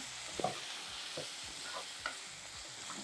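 Spices for an eggplant curry fry in a pan: a steady faint sizzle runs throughout, with light scraping stirs at irregular intervals and no talk.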